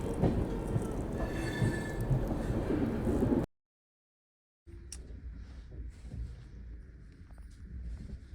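The Gowthami SF Express rolls along after leaving Kazipet, a steady low rumble of wheels and carriage noise heard from inside, broken by a brief silent gap before resuming more quietly.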